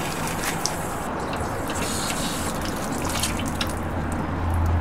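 Water draining from the cold-water maintenance valve of a tankless water heater, a steady close trickle and drip running throughout with no talk.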